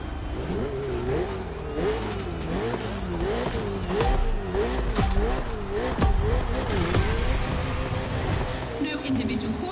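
Ferrari and Red Bull race cars rev and accelerate in The Crew Motorfest racing game, their engines rising and falling in repeated loud, close surges while a voice talks over them.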